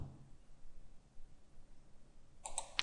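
A quiet room with a faint hiss, then a couple of sharp mouse clicks close together near the end, made while working in Inventor 3D CAD software.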